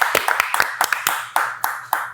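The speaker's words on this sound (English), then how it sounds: "We get a round of applause." A studio audience applauds a guest named Tony on a talk show, with a brief burst of scattered claps followed by a few louder isolated hand claps fading out.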